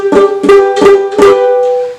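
Four quick strummed ukulele chords with a dull, buzzy edge from strings not pressed firmly enough, each strum evenly spaced, the last ringing out and fading, played close with no voices.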